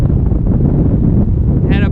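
Strong, gusty wind buffets the microphone at a paramotor ridge soaring site, a steady broadband roar filling the whole stretch, with a brief tonal squeal near the end.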